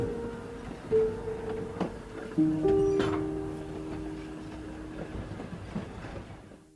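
A tourist train rolls along the track with low rumbling, intermittent metallic squeals and clanks, steady and fairly close.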